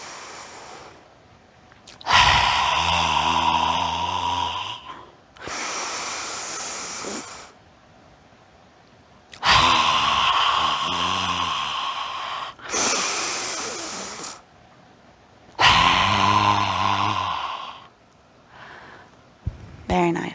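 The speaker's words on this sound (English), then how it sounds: "Inhale fully. And let it go." Deep yogic breathing in a throat chakra flow: three long inhale-exhale cycles, each a loud airy breath lasting a few seconds with brief pauses between, close to the microphone, with one short breath at the end.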